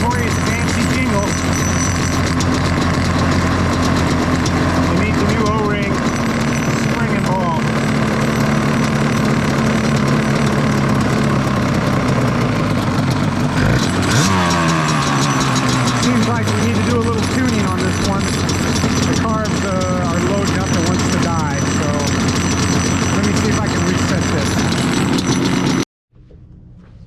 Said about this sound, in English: We'll call it a Dune port. FMF pipes. Notorious Banshee jingle.